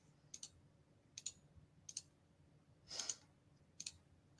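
Sparse keystrokes on a computer keyboard during data-validation work, a handful of crisp, faint clicks spaced irregularly about a second apart, with one slightly louder cluster, over a quiet room hum.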